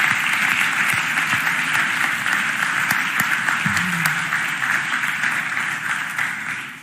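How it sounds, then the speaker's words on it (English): Sustained applause from a civic audience honoring city employees at a mayor's budget address in Philadelphia, steady dense clapping throughout that eases slightly toward the end. "Let's give all of our employees a round of applause."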